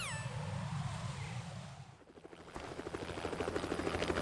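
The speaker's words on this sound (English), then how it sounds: "Y ahí está el Harrier." A Harrier jet in the video game Metal Gear Solid 2 gives a faint, whining engine roar that shifts into a rapid, pulsing throb.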